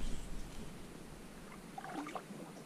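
Canoe paddled through Everglades water, soft splashing and dripping strokes at close range with faint gurgles of the moving water.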